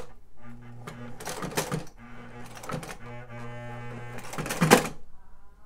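A sewing machine stitches through sketchbook pages in short bursts, whirring runs separated by brief pauses, the final burst louder with a sharp mechanical clack.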